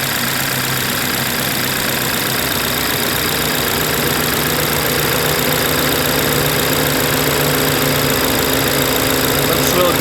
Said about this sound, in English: It's a pretty loud engine. It's gonna go down by itself. Idle's gonna go down.